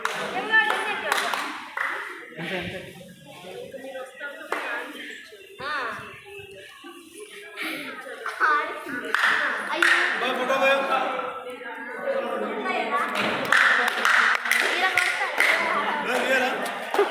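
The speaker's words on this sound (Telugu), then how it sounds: "ఇక్కడ క్లాప్స్ కొడితే అందరికి వినబడతాయంట" Hand claps ring out at Golkonda fort, a series of sharp claps heard close and loud amid steady chatter and voices of a group of visitors talking throughout.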